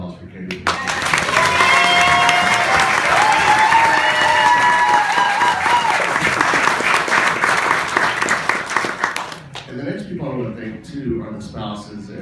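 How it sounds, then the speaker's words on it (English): A large crowd at a band reunion breaks into loud, sustained clapping with some cheering and whistles, holding strong for several seconds before thinning out as a voice begins speaking. "a big round of applause for Katie."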